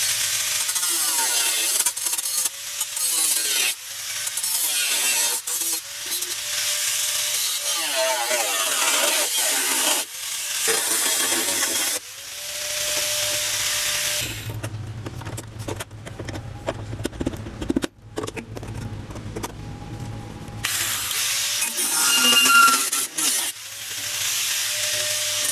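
An angle grinder cutting steel for a food truck trailer bumper, a loud harsh whine that runs in long stretches, stops and restarts, with a lower buzzing passage in the middle.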